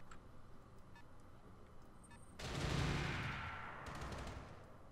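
Gauss rifle fire in the mech game Roguetech, a single heavy, sudden boom that rolls into a long decaying rumble after a quiet stretch of faint ticking.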